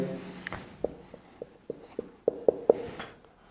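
A pen writing out a math solution for a class 9 algebra exercise on adding and subtracting expressions, with a run of short, close tapping strokes building to sharper marks near the end.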